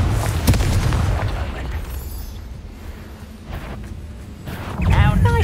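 Confringo fire spell in a Hogwarts Legacy game bursting with a sharp boom, followed by rumbling debris and a second heavy blast near the end, with talk over it.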